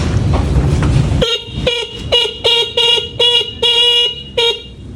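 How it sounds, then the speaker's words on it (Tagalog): A Honda Raider 150 carburetor motorcycle horn honks repeatedly in short bursts, a couple of long toots among quicker beeps, loud and close with no talking. "kung mapapansin nyo yung tunog ng busina"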